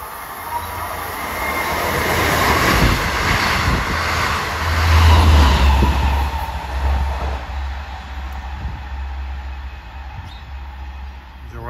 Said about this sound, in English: approaching westbound on a rush at 547 is train 659 from Port Jeff to Jamaica